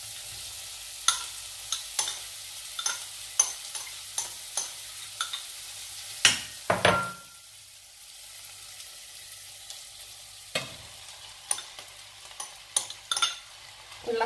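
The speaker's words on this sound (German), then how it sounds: "lasse das alles jetzt auch schön einmal anbraten" Gentle sizzling of onions and pumpkin paste frying in a pot with frequent scraping and clinks of a spoon stirring, then quieter simmering broken by more stirring taps.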